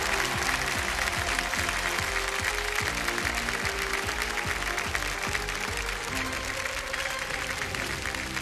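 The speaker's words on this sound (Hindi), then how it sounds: "एक बार फिर तालियां बज जाए इनके लिए जोरदार" Studio audience applause on Kaun Banega Crorepati 13: loud, continuous clapping from a packed room, steady throughout, with a rhythmic musical beat underneath.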